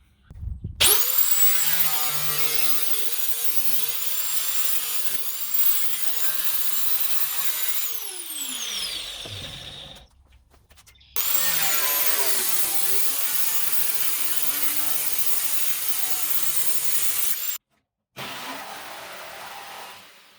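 A saw makes a long final cut through a ceiling panel in a school bus conversion. The harsh, loud rasping runs steadily for several seconds, pauses, then resumes.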